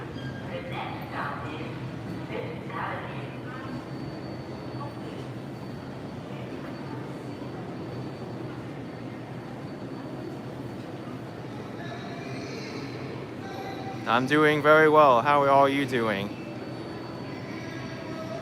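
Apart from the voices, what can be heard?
subway train leaving the station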